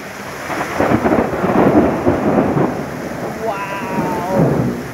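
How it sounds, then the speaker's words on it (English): A thunderstorm with rain in Kambalda: a loud rolling rumble of thunder swells and fades twice over steady rainfall, with a brief voice near the end. "We're still getting some much needed rain."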